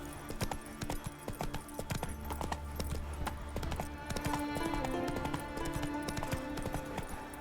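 Hooves of Roach, the horse in The Witcher 3, clip-clop in a steady trotting rhythm at close range for the whole stretch, with game music and ambience underneath.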